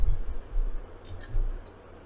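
A couple of light mouse clicks on an install button, brief sharp ticks close to the microphone in an otherwise quiet room.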